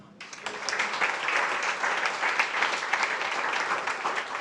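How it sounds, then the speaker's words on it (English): Audience at a London climate action conference breaks into applause, a full, steady wash of clapping that builds quickly and holds loud throughout. "A round of applause for all our speakers that have joined us today."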